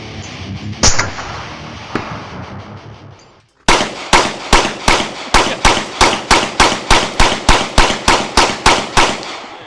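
Rapid, evenly spaced gunshots ring out at an outdoor shooting range in Appalachia, a loud close string of about sixteen sharp cracks following a single earlier report and a stretch of rustling handling noise.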